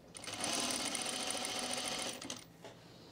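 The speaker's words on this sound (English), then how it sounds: "unfold the hem down here and sew it at your 5/8 inch seam allowance" A sewing machine stitches a hem at a 5/8 inch seam allowance, running as a steady, close, loud mechanical whir for about two seconds before it slows and stops.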